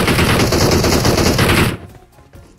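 Rapid video-game machine-gun fire rattles loud and close in a dense unbroken burst, then cuts off abruptly into near quiet with a few faint clicks.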